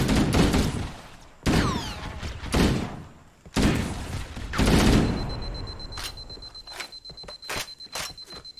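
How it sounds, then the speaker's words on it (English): Gunshots traded in the Halo: Combat Evolved video game: several loud, spaced blasts with booming tails, then a quicker run of lighter sharp shots, near and prominent. "Chief trades shots with him before a brutal headshot comes from Spartan in the peanut gallery"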